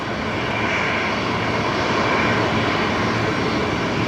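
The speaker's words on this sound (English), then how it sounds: "one of the very few tri-jets we see here in Brizzy" A tri-jet airliner's engines roar steadily at Brisbane Airport, a loud, continuous broadband rumble with no voices over it.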